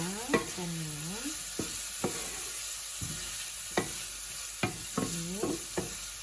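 Pancit bam-e noodles sizzle steadily in a pan while a utensil scrapes and clacks against it in irregular strokes, close and alone with no voices.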